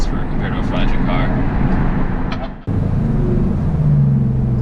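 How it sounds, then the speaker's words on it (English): A Lamborghini Huracan Performante's V10 engine and exhaust rumble loudly and continuously close by, rising in pitch toward the end, with people talking over the noise. "Okay, the Performante sounds fucking amazing."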